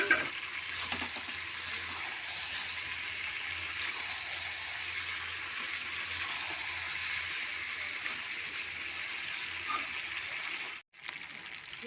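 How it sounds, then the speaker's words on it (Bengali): Water poured steadily into a pot of chicken and potato curry makes a continuous close gush for several seconds, then cuts off briefly near the end before resuming. "আর পরিমাণ মতো জল দেবো।"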